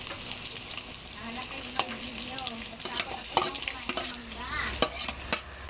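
Garlic sauteing in oil in a pan to start kare-kare, a continuous close sizzle with repeated clinks and scrapes of a spatula stirring, and no speech.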